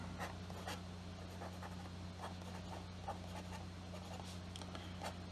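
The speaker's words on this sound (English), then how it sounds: "let's get going with a writing sample" Fine-point PenBBS 480 Galaxy fountain pen scratching across paper in short repeated strokes, faint and close, over a steady low electrical hum.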